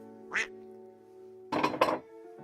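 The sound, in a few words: duck quacking sound effect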